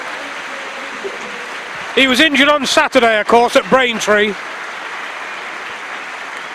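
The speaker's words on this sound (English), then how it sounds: "Tremendous round of applause for the skipper" A football crowd at Grimsby Town against FC Halifax Town applauds the substituted skipper, a steady broad wash of clapping from the stands while a commentator talks over it.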